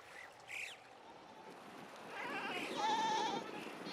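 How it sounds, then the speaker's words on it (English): Pashmina goats and sheep bleat on high-altitude Himalayan pastures, several wavering calls at moderate distance, one short early and a longer overlapping chorus later, over a soft open-air background. "thousands of pashmina goats and sheep arrive to graze these high-altitude pastures"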